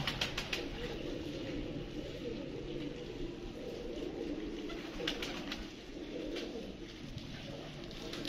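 Pigeons at a pigeon-flying tournament coo steadily through the whole stretch, soft repeated calls over a busy outdoor bird-loft background with occasional wing flaps.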